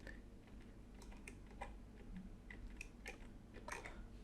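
Soft clicks of computer keyboard keys pressed in an uneven run, quiet and close, with no talking over them.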